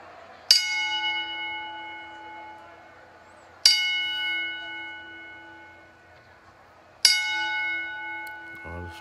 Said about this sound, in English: Please join us in a moment of silence and the traditional 10-bell salute.